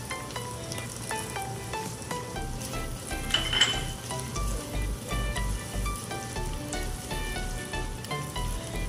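Onions and garlic fry in a pan, a continuous close sizzle with stirring and utensil clinks against the pan, a brief louder hiss surge partway through.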